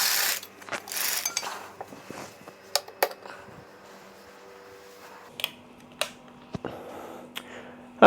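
A blackout curtain is drawn across a budget beach hotel room in Jomtien, Pattaya, giving a run of mechanical rattles and track clicks, with sharp hook snaps at intervals and a steady faint hum underneath, close and fairly loud with no talking.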